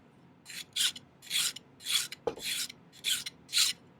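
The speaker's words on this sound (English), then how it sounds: "If you need to brace stuff when you're filing it, that's fine." A hand file rasps across a silver wraparound ring in about eight short, even strokes, close and crisp, with a brief knock midway and no talking.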